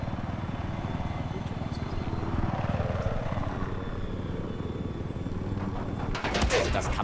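Helicopter rotor drone from the Battlefield 4 multiplayer game, a steady throbbing hum filling the scene throughout, ending in a burst of loud noise, with players talking over it.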